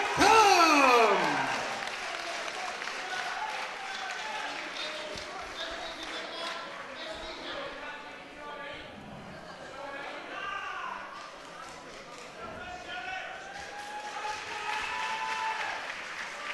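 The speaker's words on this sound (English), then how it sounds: "keep your applause going as well for his opponent" Crowd applause at a K1 kickboxing contest after the winner is announced, steady clapping continuing beneath an announcer's amplified voice.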